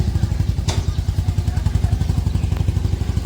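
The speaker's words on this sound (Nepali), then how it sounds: "त्यसले त्यसको बाइक निकाल्दैछ।" A motorcycle is being taken out, its engine running with a close, loud, steady low thumping pulse and an occasional clatter.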